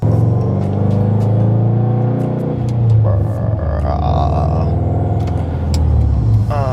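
A Subaru WRX STI's engine hums and rumbles steadily from inside the car on a test drive after a rear differential carrier install, with a brief rise in revving midway.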